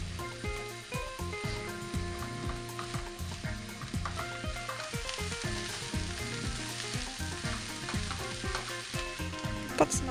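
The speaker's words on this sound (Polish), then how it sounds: "Podsmażajcie przez około 5 minut." Mushrooms and garlic fry in a pan for a vegetarian roast, giving a steady close sizzle with stirring scrapes throughout, no voices.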